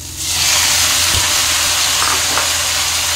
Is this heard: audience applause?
no